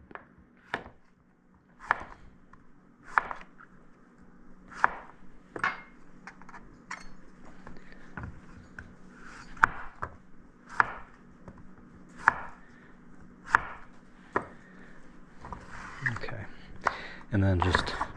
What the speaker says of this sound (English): then just going to julienne, just like this. The julienne is just nice strips